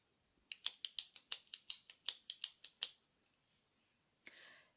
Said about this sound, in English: it drives me nuts when people just sit and click their pens